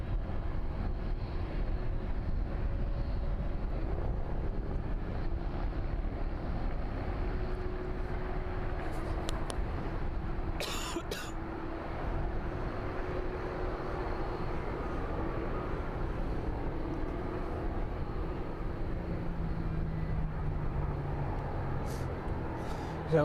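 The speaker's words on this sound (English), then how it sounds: "Continues its taxi down to the start of runway 27." A jet airliner taxis toward runway 27 at East Midlands Airport in the evening, a steady distant engine rumble and whine filling the air, with brief clicks and faint background noise.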